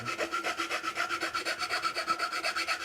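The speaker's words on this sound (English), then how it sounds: "You did that with a file" Steady rhythmic rasping of a fine file smoothing a wooden stave for a snare drum bed, dozens of quick even back-and-forth strokes, close up and alone.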